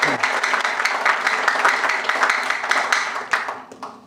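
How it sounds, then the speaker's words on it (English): Audience applause at a business networking chapter anniversary meeting: many hands clapping in a steady, dense roll that carries on evenly, then thins toward the end. "May I request everyone to give a thunderous applause to all of them."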